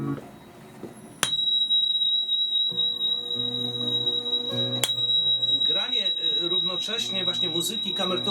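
A tuning fork's steady, piercing high tone rings continuously above layered lower sustained tones, with a brief sharp click near the start and another midway.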